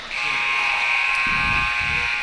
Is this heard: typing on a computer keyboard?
no